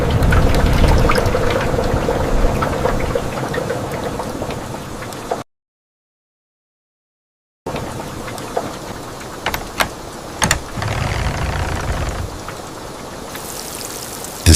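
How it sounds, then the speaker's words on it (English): Steady heavy rain pours down with a dense, hissing wash and scattered drips, broken by a short silent gap before the downpour resumes. "wandering alone beneath the pouring rain"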